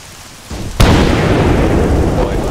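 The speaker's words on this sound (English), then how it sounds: "we're taking some kind of heavy fire in town" Heavy gunfire in a town during an Arma 3 battle, with a sudden loud blast followed by a dense, sustained roar of shots and rumbling impacts, close and loud throughout.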